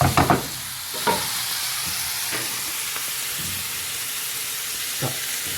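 Brussels sprouts with bacon frying in a pan, a steady close sizzle and hiss running throughout, broken by a few brief scrapes and stirring knocks, with no one talking.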